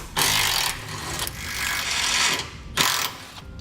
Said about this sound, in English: We're going to remove those with a 15mm socket.